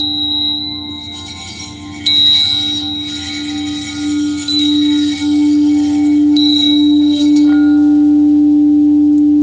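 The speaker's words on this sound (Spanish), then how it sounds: "Y las campanas suenan." Bright, sustained chiming tones ring out over a steady low hum, with several strikes swelling and fading across the passage.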